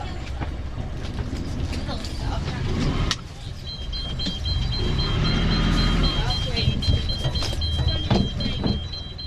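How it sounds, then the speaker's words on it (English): A sailboat's depth alarm beeps in shallow water on the Caledonian Canal, a thin high double tone that persists for several seconds over engine rumble and people talking. "The depth alarm was beeping at us impatiently"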